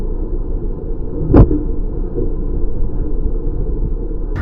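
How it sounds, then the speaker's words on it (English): A solid-axle-swapped Dodge Dakota truck hits a bump while driving, giving one sharp thump over a steady low cabin rumble of the engine and road noise. "That was a pretty good sized bump."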